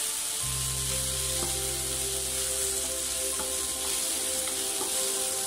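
Tomato and onion frying in a pan, a steady loud sizzle with a low hum running underneath and occasional soft knocks of a spoon stirring through the mixture.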